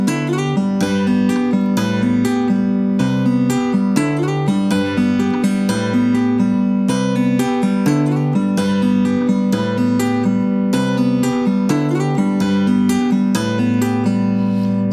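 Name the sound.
math rock guitar tapping riff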